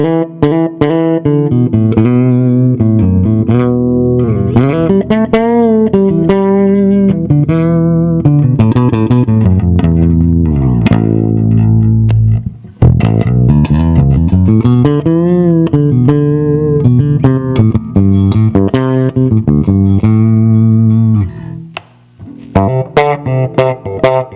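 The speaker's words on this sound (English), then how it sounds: "I'll try a couple of different tones from my Gibson bass" A loud Gibson electric bass through an Ampeg V-4B tube bass amp plays a melodic line of sustained, resonant notes with a warm, amplified tone, pausing briefly midway and near the end.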